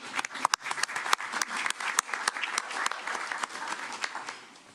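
Audience at a city council meeting in Daly City applauds, with sharp, distinct claps from a modest crowd, irregular and fairly close, continuing steadily before tapering off at the end.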